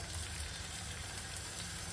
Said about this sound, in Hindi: ये वाले पैन में अभी हम अपनी वेजीज सॉटे करेंगे